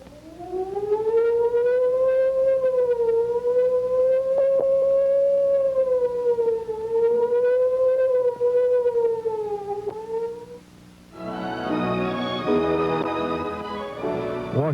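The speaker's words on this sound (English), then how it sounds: "And they make strange sounds with their sirens." A civil defense siren wails in long, slowly rising and falling tones, loud and sustained, then cuts to a harsher, buzzing burst of another siren near the end.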